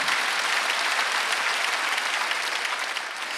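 A church congregation at a Sunday worship service claps together in dense, steady applause that stays full and even from start to finish, with no voices over it.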